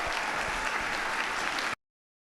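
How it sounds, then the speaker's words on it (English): An audience at a startup demo day claps in a dense, steady burst of applause that cuts off abruptly after nearly two seconds. "A big round of applause"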